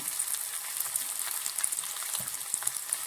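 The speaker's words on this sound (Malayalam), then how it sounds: "ഇത്രയും കൂടിയിട്ട് നമുക്ക് നന്നായിട്ടൊന്ന് വഴറ്റിയെടുക്കാം ഇതിലേക്ക് നമ്മൾ കുറച്ച് ഉപ്പ് കൂടി ചേർത്ത് കൊടുക്കുവാണ്" Prawn masala with added salt is sautéed in a pan. A soft, continuous frying crackle holds steady with faint scattered stirring scrapes, fairly quiet and without talking.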